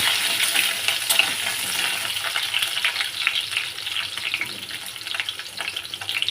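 Potatoes sizzle and fry in hot oil with whole chillies, chilli leaves and cumin, a steady close crackling hiss throughout with occasional stirring scrapes and no voices.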